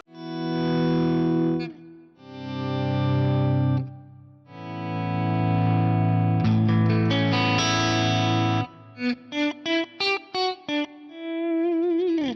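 Distorted electric guitar chords swell in and out, fading up from silence, followed by a run of short, pulsing notes with echoey effects.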